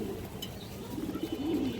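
A pair of Bagha pigeons, a bonded breeding pair, coos softly and close by in low rolling notes that swell toward the end, with no talk over them.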